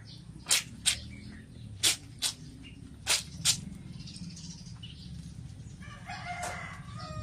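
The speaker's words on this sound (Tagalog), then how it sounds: "Puro ko ng ibon narinig ko." Birds call outdoors in a series of sharp, bright chirps in quick clusters over a low steady background rumble, with a short burst of busier twittering near the end and no talk.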